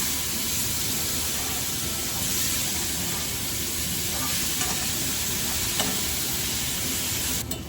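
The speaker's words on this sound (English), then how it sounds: "we're going to give it a good stir and let it get all seasoned evenly" Seasoned beef roast with a quarter cup of water hisses and sizzles steadily in a pan, with a few soft scrapes of stirring near the end.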